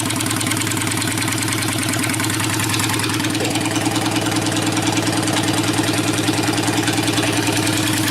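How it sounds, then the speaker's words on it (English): A motorcycle with a cracked manifold idles in a loud, steady, close chug and then takes a little throttle, its uneven idle thickening briefly before settling back into the same rough, continuous running. "It's just when you go to give it gas, it just wants to quit."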